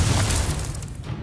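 Incendio fire spell cast in the video game Hogwarts Legacy, a short, loud fiery burst with a deep booming whoosh that fades within about a second.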